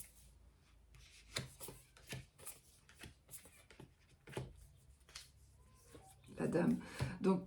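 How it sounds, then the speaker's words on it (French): Tarot cards are shuffled and laid out on a table, giving soft rubbing, slapping and sliding sounds that repeat under someone speaking French throughout. "je vais placer 9 cartes"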